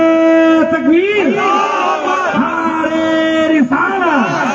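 A large religious gathering's crowd answers a takbir call with a loud, sustained chanted slogan in unison, many voices rising and falling in long drawn-out shouts that fill the whole clip.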